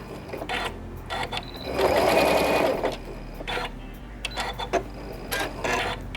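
A sewing machine runs zigzag stitches on a fabric surgical-style mask in short, rapid bursts, with a longer continuous run in the middle, up close and at moderate volume.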